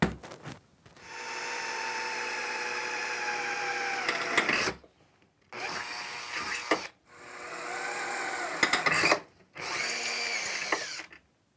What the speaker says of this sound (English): Drill some more holes.